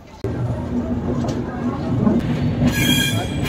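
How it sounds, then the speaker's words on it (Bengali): A passenger train pulls into Guwahati railway station with a loud, continuous rumble of wheels on rails and brief wheel squeal, while voices murmur faintly in the background. "অবশেষে আমাদের ট্রেন এসে পৌঁছলো গৌহাটি।"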